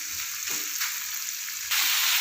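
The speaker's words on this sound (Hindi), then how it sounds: "इसका कलर चेंज होने तक हम इसको फ्राई करते हैं।" About half a kilo of chicken mince fries in a pan, a dense continuous sizzle close up that rises noticeably louder near the end.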